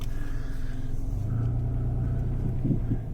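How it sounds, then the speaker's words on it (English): Interior of a car on the road, heard through a GKU 4K Pro dashcam, with a steady low engine and road rumble throughout and a slight shift in tone near the end, no speech. "let's go for a drive and try this thing out"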